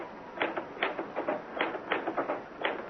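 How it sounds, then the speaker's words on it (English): Manual typewriter in a radio drama, keys struck in quick uneven bursts of sharp clacks, close and clear, with brief pauses between groups of strokes and no voices. "Why did I never learn to work a typewriter?"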